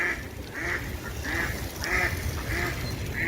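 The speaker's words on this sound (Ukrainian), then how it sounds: "Качки вже попросипалися, щось розповідають." Several ducks quack repeatedly in short rhythmic bursts in spring in the Netherlands, fairly close, over a steady background rumble.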